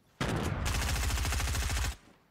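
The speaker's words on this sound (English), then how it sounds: "Just using that new SMG, just lasering that guy right there." A new SMG fired in Fortnite, one sustained rapid burst of closely spaced shots lasting nearly two seconds, loud and close, then cutting off abruptly into quiet.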